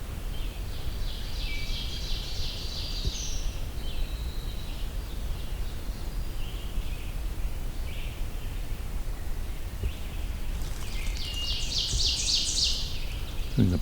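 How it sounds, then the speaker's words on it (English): A wood thrush sings far off in a forest, its faint fluting phrases drifting in among other birdsong over a steady wash of background noise, with no voices nearby. "It's a distant wood thrush out there."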